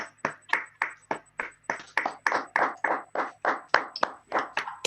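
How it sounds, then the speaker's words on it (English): Clapping from a single participant in an online union delegate meeting, steady evenly spaced hand claps heard close and fairly clear over a faint constant tone. "if you can all unmute, please, and give a round of applause to Richie Venton."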